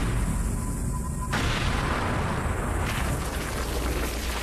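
Ammonium nitrate and fuel oil charge set off to simulate a crater impact, a sustained loud roaring blast with dense broadband rumble filling the whole stretch, no voices over it.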